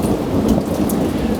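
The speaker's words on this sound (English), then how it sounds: "Thunder." Thunder from a storm passing over a biodynamic herb farm, a brief loud low rumble with rain-like hiss over it.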